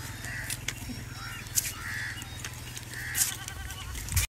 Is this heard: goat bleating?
yes